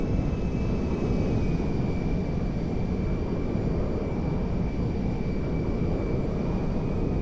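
Steady, continuous engine roar of an Ilyushin IL-76M jet transport in flight in GTA 5, a dense broadband rumble with a faint high whine, constant and close throughout without voices.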